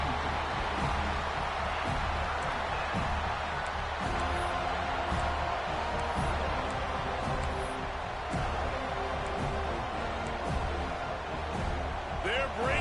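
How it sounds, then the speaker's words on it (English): A home football crowd at the Dome in a college football video game roars steadily throughout, a dense, continuous wall of cheering and noise with a commentator talking over it. "how nice is it to have the home crowd going absolutely bananas?"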